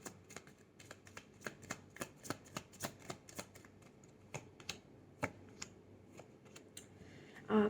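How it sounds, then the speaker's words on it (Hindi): Tarot cards being shuffled by hand during a reading, a quiet series of crisp riffling clicks and flutters in irregular bursts, close up in an otherwise still room. "Okay, let me reshuffle. Cards गिर गए थे।"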